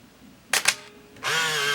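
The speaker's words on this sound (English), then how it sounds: "I saw the shutter move in there." Canon Sure Shot 35mm point-and-shoot film camera firing its shutter twice in quick succession, two sharp close clicks, followed by a whirring motor winding the film.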